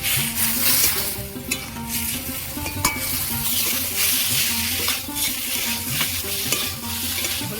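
Spice paste for a hilsa and eggplant curry fries in a pan, a steady sizzle under repeated scraping strokes of a spoon stirring, close and moderately loud with no talking.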